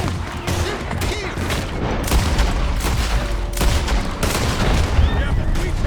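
Dense, loud gunfire in the video game Red Dead Redemption 2, with rapid overlapping shots and booming reports crackling continuously through a chaotic firefight, voices shouting underneath.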